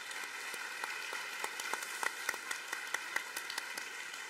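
Applause at a keynote speech session of a forum, a steady patter of many hands clapping with scattered sharper claps, fairly faint and distant, with no voices over it.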